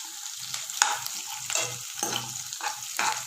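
Onion and green chilli sautéing in a pan for noodles, a soft frying hiss punctuated by several distinct spatula scrapes and knocks at irregular intervals, close and moderately quiet, no talking.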